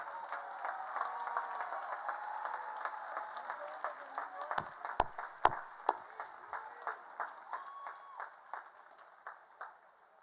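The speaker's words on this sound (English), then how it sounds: "One more round of applause for our most impressive graduates in the class of 2025." Audience applause for graduates of the class of 2025 at a college commencement ceremony, a dense, steady wash of many hands clapping that continues throughout, with scattered louder individual claps standing out.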